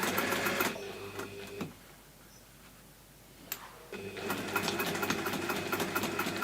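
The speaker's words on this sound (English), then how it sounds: "we're going to sew from here up to that mark there" Sewing machine edge stitching a cornered clutch bag, two steady loud bursts of rapid motor whir with a quiet pause between them.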